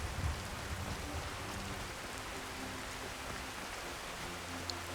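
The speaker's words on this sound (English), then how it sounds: "Hello, Rain. I've always enjoyed Rain." Continuous rain in the fantasy game Skyrim, an even, broadband hiss of falling water with a faint low rumble beneath, fairly loud and uninterrupted, with no talking.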